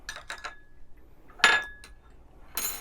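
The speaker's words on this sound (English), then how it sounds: "I'm going to give it a quick stir." A few quick clinks of a utensil against a brewer while stirring pour-over coffee, brief taps with one brighter ring in the middle, close by and fairly quiet.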